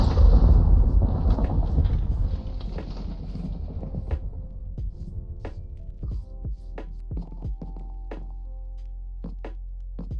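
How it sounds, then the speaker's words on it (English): A thunderstorm in a block-building video game, opening with a loud, deep rolling rumble of thunder that decays into a low drone, with scattered sharp clicks and knocks from the game. "Thunderstorm."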